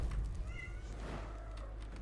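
A pet cat meows in a room during a game stream, a short mid-pitched call heard over a steady low background hum.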